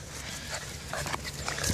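German shepherd puppies about 45 days old give faint, brief whimpers and yips, close by but low in level over a soft background, with a few short squeaky cries near the end.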